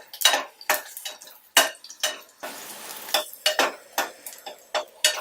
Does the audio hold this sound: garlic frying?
yes